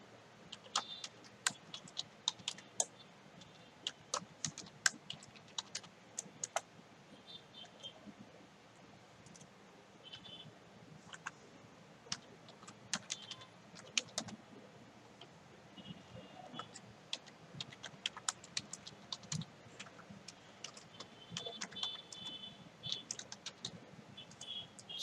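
Someone types on a computer keyboard, quiet, irregular clicking taps in short bursts with brief pauses, continuing for about twenty-five seconds against a faint background hum.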